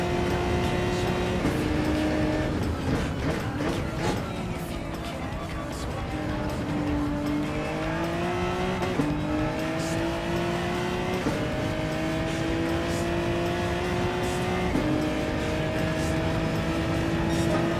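A Genesis race car in a racing video game, its engine droning loud and steady with rising and falling pitch through gear changes and corners, faint tire squeal underneath.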